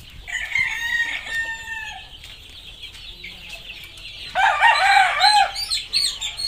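Gamecock hens, rooster and chicks on a breeding yard, with a rooster crowing clearly and repeatedly amid clucking and faint chick peeps, fairly close.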